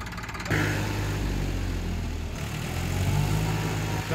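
Tractor engine used for kiln-site machine work, running steadily and loud after a brief start, a continuous low rumble with firm harmonic drone throughout, no voices.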